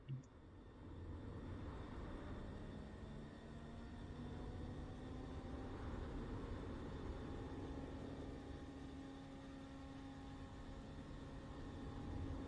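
Douglas DC-3 engine 2 starting in Microsoft Flight Simulator 2020: a steady whirring drone that slowly rises in pitch as the engine spins up, continuous and fairly faint, with no talk.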